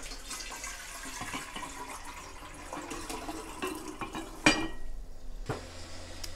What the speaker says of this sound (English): we're gonna add the water. I'm using distill water.